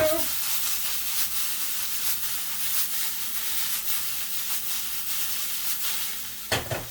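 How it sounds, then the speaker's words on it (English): Steady frying sizzle of chilies and garlic in a pan over high heat, a hissing, crackling texture, loud and close, continuing throughout with a brief clatter near the end. "We should be hearing that nice sizzle."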